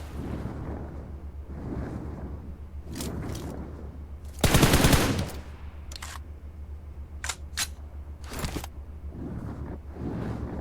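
Gunfire in PUBG Mobile, with several spaced single shots over a steady rumble and one heavy, louder burst in the middle.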